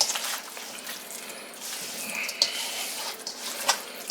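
Seasoned steak for jerk steak is stirred and tossed in a bowl, giving a continuous wet, hissy rustle with a couple of small clicks, close up and steady with no talking.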